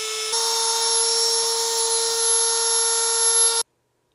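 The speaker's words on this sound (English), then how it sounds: "Some guys recommend just scraping it with a knife, but I prefer power tools." A power tool sands the enamel coating off magnet wire while building an end-fed half-wave antenna, giving a steady, high-pitched whine that runs continuously for about three seconds and then cuts off abruptly.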